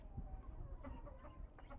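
Hens and a rooster cluck quietly in a backyard coop, a few soft scattered clucks over faint low background noise.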